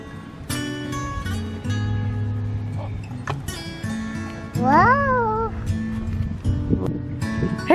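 A cat gives a single rising and falling meow over a noisy background of movement and muffled activity.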